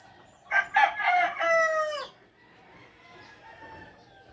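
A frizzle rooster lets out a single loud, close crow lasting about a second and a half, followed by quieter background clucking.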